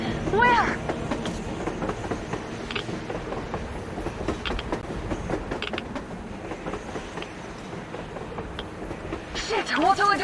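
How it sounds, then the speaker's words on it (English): A train passes in the video game Metro Exodus with a steady low rumble and rail clatter, squealing wheels and horn-like tones at the start and end, while voices talk over it. "A train! A damn train on the surface!"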